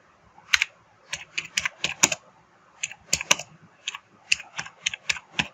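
Someone types on a computer keyboard while entering text in a design program: quick, close, crisp key clicks in uneven bursts separated by short pauses, with no talking.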